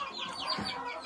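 Young chicks cluck and cheep briefly inside a warm coop lit by a red heat lamp at a country dacha, a soft, close, short burst of fowl sounds with no talking.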